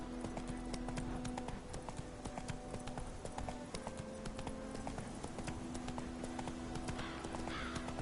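Roach the horse trotting in The Witcher III, rapid steady hoofbeat clip-clop close by, with faint background game sounds and no speech.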